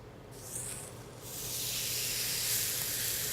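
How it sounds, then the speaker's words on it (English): A broad hiss swells up and holds steady, close and fairly loud, as ribeye steak hits a hot grill and sizzles. "You hear that nice sizzle? That means your grill is hot"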